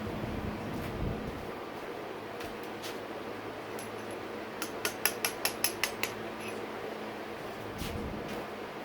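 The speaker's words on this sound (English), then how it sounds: "Now I'll take this punch. I'll go to the other side and just give the piston pin, the wrist pin, just some love taps." Gentle hammer taps on a punch driving the wrist pin out of a 2019-2022 Yamaha YZ450F piston, a quick run of about six light metallic clinks over quiet workshop background, with a few isolated taps before and after.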